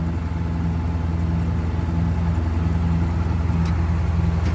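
A tractor engine runs steadily while bush hogging around a pond, a loud, continuous low rumble with an even mechanical throb and no talking.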